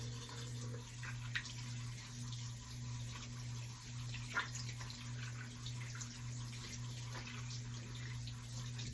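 A tap runs steadily into a sink as hands are washed with soap, a soft continuous water hiss with faint splashes and occasional light knocks, quiet and close over a low background hum.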